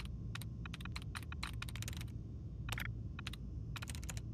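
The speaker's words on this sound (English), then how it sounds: "Oh, I do love the keyboard sounds. That's proper keyboard sounds." Clicky typing on a computer keyboard in quick bursts of keystrokes with short pauses, steady and fairly close over a low constant background hum, with no talking.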